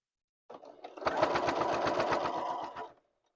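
A sewing machine runs one steady close burst of rapid stitching on a stand mixer cover, starting abruptly and stopping after about two seconds.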